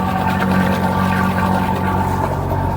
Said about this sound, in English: So there's your generator running with the sound shield on, with the floorboards closed.